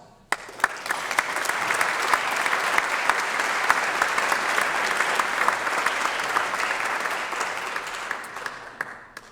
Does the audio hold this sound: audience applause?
yes